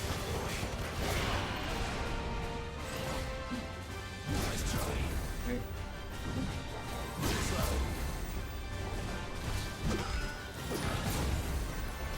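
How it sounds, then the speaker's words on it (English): Explosions crash again and again during a boss fight in Final Fantasy XVI, with heavy blasts, whooshes and impacts recurring throughout a dense, loud stretch of game combat. "Had to wait for another explosion."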